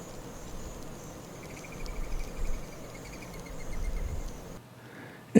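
Honey bees working a Flow Hive, cleaning emptied frames and bringing in nectar: a faint, steady hum and buzz at close range with a low, soft background, broken by a brief knock at the very end.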